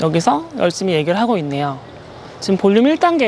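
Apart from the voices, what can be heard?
No distinct noise like a dog, phone or traffic.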